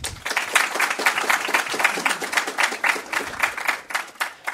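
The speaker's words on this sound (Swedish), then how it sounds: "jag börjar med att under varma applåder välkomna" A seated audience at a Swedish democracy report presentation claps warmly to welcome a speaker, with steady, moderately loud applause of many hands lasting several seconds.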